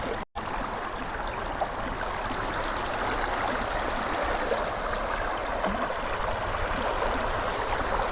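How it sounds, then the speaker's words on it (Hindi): Floodwater after incessant rain rushing steadily toward farm fields, a dense, loud, continuous wash of flowing water near the listener, unbroken apart from a brief dropout at the start. "इतने वॉल्यूम में पानी खेतों की तरफ जा रहा है।"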